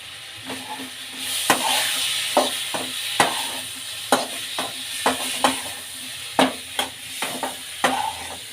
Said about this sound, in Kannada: ಈಗ ಮತ್ತೊಮ್ಮೆ ಮಿಕ್ಸ್ ಮಾಡೋಣ